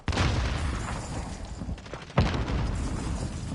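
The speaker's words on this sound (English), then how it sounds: "You throwing grenades!" Grenade blasts in a first-person shooter, a dense, rumbling roar of explosions with one sharp, loud boom partway through, continuing without any speech.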